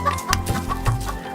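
A flock of farmyard chickens clucks in a rapid, overlapping chorus, loud and close, with repeated short calls over a steady low rumble.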